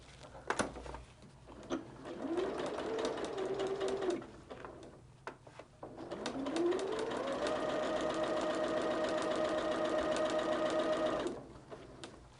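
Sewing machine stitching pieced quilt block fabric over a solid piece, running in two sustained bursts with a rising motor whine, close and steady, the second run longer before stopping.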